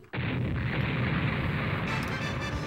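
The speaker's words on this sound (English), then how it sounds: "All 4 cannons, prepare to fire." Cannons fire in the Mega Man 64 video game, a sudden loud blast that turns into a sustained roaring barrage of explosions, dense and continuous to the end.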